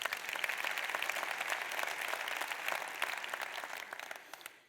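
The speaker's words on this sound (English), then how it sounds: "everybody should give Sunny a big applause" Steady applause from a conference audience at the ICT&health World Conference, many hands clapping densely and fairly loud throughout, tapering off slightly at the very end.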